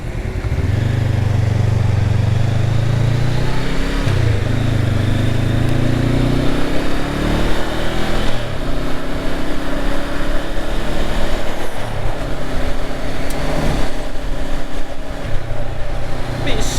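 A Honda Hornet 750 with a quick shifter droning steadily while being ridden, its engine note rising and falling through gear changes, loud and close with wind rush throughout.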